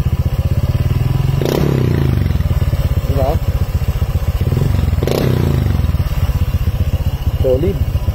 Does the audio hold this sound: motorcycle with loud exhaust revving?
yes